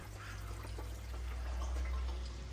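Water trickles through the plumbing of a reef aquarium as a steady, faint wash with no break.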